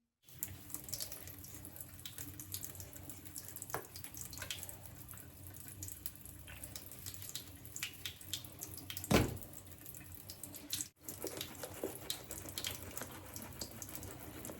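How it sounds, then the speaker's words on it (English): A water pick dental flosser runs continuously with a faint hissing spray of warm water, quiet and steady, with one brief louder burst partway through. "So if there's one thing I can recommend, it is a water pick."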